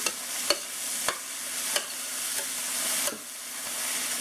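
A veggie burger mixture sizzles in a pan after about 13 minutes of cooking, giving a steady soft hiss punctuated by several sharp scraping clicks from stirring, fairly quiet and close.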